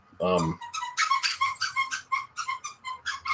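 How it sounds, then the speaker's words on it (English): A dog squeezes a squeaky toy indoors in a kitchen, giving a string of sharp, high squeaks at an uneven, rapid rhythm after one low, brief vocal sound. "She found her squeaky toy."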